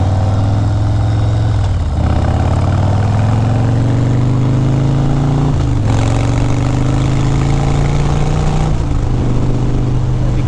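A motorcycle with a 107 cubic inch engine runs steadily up close, a loud deep throbbing drone whose pitch climbs gradually and dips briefly a few times as the throttle is eased and reapplied.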